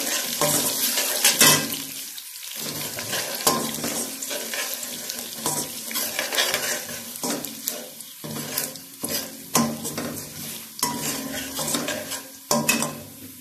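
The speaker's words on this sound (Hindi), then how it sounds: "इसको हम 1 मिनट के लिए जरा इसको थोड़ा सा हम भूनेंगे मसालों को" Whole spices roasting in a pan, loud hissing sizzle with repeated spatula scrapes and stirring strokes in an uneven rhythm, close and unbroken by talk.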